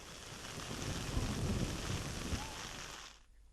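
Heavy rain and gusting wind in Botad, Gujarat, with deep thunder rumbles, a loud, steady broadband roar that holds for about three seconds and then cuts off abruptly.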